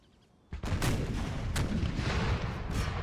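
Cannon artillery fire in the Empire Total War video game with a Sweden campaign mod: a sudden loud volley, then a sustained, dense roll of overlapping booms and distant reports, with no talking.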